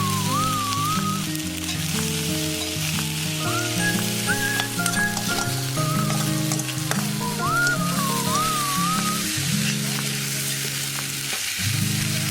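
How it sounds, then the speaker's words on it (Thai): Rice and shrimp sizzle and crackle in a hot wok while being stir-fried and tossed, a steady frying hiss under light background music. "ก็จะผัดจนกว่า ข้าวนะคะ สีสวยเสมอกันดีค่ะ"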